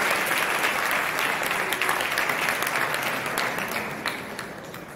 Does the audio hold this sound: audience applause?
yes